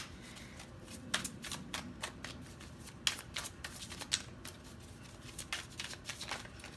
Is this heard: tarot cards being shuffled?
yes